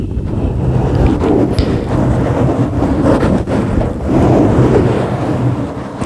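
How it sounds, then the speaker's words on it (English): Slow scratching on a microphone makes a loud, rolling wash that swells and ebbs like waves crashing on a shore, with low rumbling surges and no talking. "Like scratching, almost like the sounds of waves crashing"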